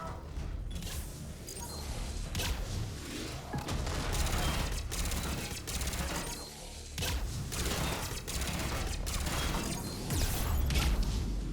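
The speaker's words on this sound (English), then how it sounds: "Where's this guy that keeps shooting us?" Enemy gunfire in Mass Effect 3 on Insanity difficulty, a dense stream of rapid shots and crackling impacts that keeps rattling along at steady loudness, with mechanical clatter mixed into the sci-fi combat din.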